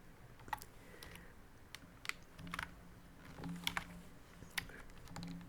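Python code is typed on a computer keyboard in quick, uneven runs of soft clicks, with a few sharper key taps standing out, steady and fairly quiet throughout.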